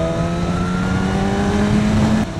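A 2015 BMW S1000RR motorcycle engine revs loudly and close, holding a steady high-pitched drone with strong harmonics before dropping off suddenly near the end.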